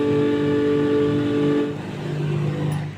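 A household flour mill grinds horse gram with a steady, droning motor hum and grinding whine. The pitch and loudness dip partway through, then the grinding carries on, with no one speaking.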